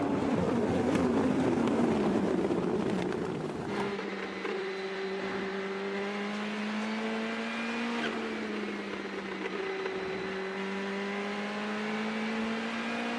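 Race cars at Speed Fest on Laguna Seca Raceway: a loud engine roar sweeps past up close, then a steady, fainter drone of several cars whose pitch rises and dips as they run the track.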